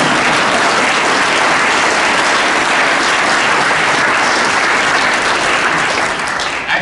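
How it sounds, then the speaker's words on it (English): Loud, dense audience applause at the Seattle mayor's 2023 State of the City speech, steady throughout with no talking. "Applause!"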